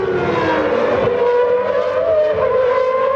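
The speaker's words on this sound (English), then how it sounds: "Goes underneath the Ferrari of Jean Alesi." Formula 1 race cars at the 1992 Japanese Grand Prix roar past with high, whining engine notes that rise and sweep in pitch, loud and continuous with no speech.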